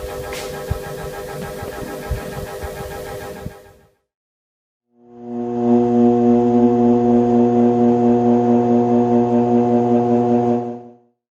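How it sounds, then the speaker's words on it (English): An electric motor runs with a steady tonal drone after a noisier first burst and a pause, holding a loud even pitch with strong harmonics for several seconds and then cutting off, with no talking. "Here's the sound of electric motor."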